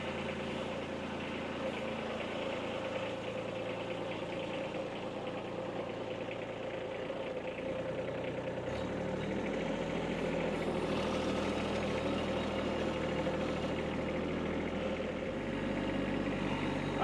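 A tractor engine idles and runs nearby while wood is being stacked, a steady mid-pitched chugging drone that stays even for the whole stretch with slight shifts in load and no talk.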